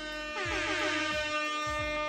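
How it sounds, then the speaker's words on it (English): Soundboard air horn blast, one loud sustained brassy tone with a falling pitch sweep, playing alone for about two seconds. "It's gonna play the air horn."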